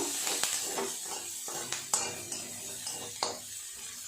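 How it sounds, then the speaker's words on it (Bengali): Onions and black cumin seeds sizzle and fry steadily in hot oil, with a spoon scraping and stirring the pan at intervals, close up and without talk. "পেঁয়াজটা একটু ভালো করে ভাজা করে নেব"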